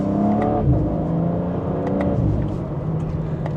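A 2026 BMW M4 Competition xDrive in sport mode, second gear, gives a smooth engine note that rises and falls through a slight acceleration, heard from inside the car and moderately loud without speech.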